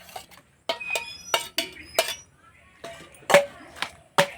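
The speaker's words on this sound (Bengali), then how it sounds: "যেহেতু মশলাটা গরম আছে সেজন্য আমি খুন্তি করে মাখছি।" A metal spatula mixes hot spiced potato mash for aloo paratha in a bowl, giving a series of sharp scraping clinks against the dish, spaced irregularly and fairly close.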